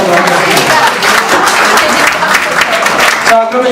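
Group applause at the close of a discussion during a general assembly meeting, a dense steady patter of many hands filling the room with some voices mixed in.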